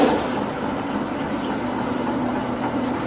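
A metallographic grinding wheel polishes a steel specimen to remove superficial scratches, giving a steady, even broadband whir with a low hum that holds at a constant level throughout and has no pauses.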